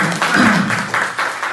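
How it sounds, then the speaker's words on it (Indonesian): Applause from an audience at the opening of a school teachers' working group meeting in Indonesia, loud, steady clapping close by that fills the whole moment. "tepuk tangan"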